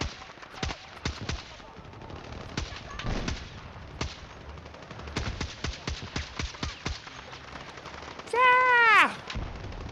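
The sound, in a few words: gunfire from video game Battlefield 6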